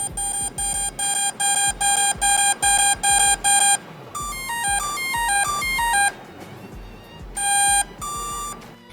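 A T-Motor AM600 ESC beeping during throttle calibration: a steady series of short, loud, evenly spaced electronic tones, then rising and falling melodic beep sequences, ending with a few more tones.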